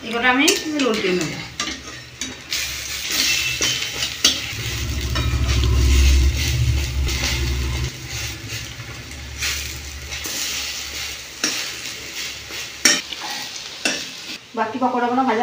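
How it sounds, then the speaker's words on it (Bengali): Pakoras frying in a pan hiss and bubble steadily up close while they are flipped and stirred, with scraping and utensil clinks against the pan and a deeper rumble midway. "এগুলো আমি উল্টে নেব।"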